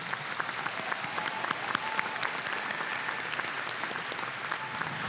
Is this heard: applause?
yes